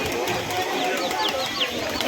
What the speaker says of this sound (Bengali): এটা ফুলশিরা গিরিবাজ পায়রা রয়েছে